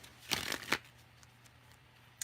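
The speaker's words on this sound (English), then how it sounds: "One more shuffle." Cards are riffled and shuffled close up, two quick rustling bursts followed by a few faint taps.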